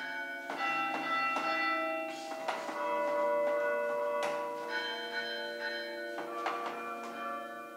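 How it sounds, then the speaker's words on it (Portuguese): A carillon of twelve church bells, a gift from 1872 in central Rio de Janeiro, rings out a sequence of clear pitched strikes, each note ringing on with long overlapping sustains that blend into a continuous melodic peal. "a primeira igreja do Brasil a ter um carrilhão de 12 sinos"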